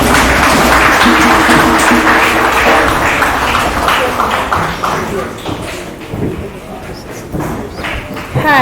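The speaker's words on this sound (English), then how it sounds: "you have to give her a big round of applause as I present the award to her" Audience applause for an award presentation at a mentorship programme, a loud, dense roar of clapping that stays full for several seconds before thinning out and swelling again near the end, with voices mixed in.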